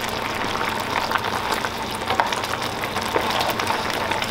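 A pan sauce for rasta pasta with lobster, butter, jerk and green seasoning, peppers and onion, bubbles and crackles steadily as it reduces, a close, even simmer with small pops and no talk.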